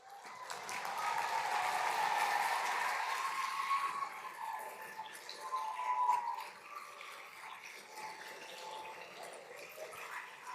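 Students at a state mock trial awards luncheon applaud their teachers, coaches and parents with a steady, fairly faint wash of clapping that swells early and then tapers off.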